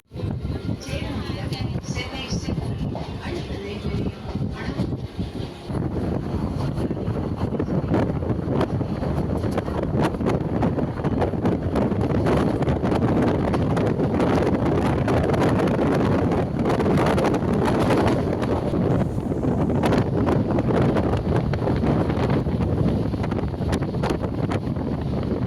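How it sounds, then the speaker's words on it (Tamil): A local EMU electric train runs from Arakkonam toward Avadi, heard from inside as a loud, continuous rushing rumble with heavy wind buffeting against the microphone. Voices seem to mix into the noise. "நம்ம அரக்கோணத்திலிருந்து ஆவடி வரையும் லோக்கல் இஎம்ஐ ட்ரெயினில் ட்ராவல் பண்ணிட்டு இருக்கோம்"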